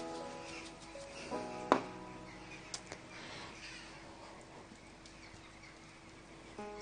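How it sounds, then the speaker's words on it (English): Crows cawing outdoors, a few distant calls heard faintly through a quiet indoor room tone, sparse and irregular with long gaps between them. "The crows outside are spooky."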